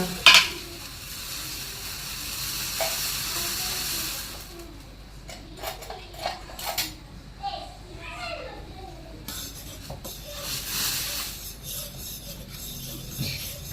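A pot of tea bubbles and simmers with soft hissing, broken by stirring scrapes and light clinks of utensils against metal.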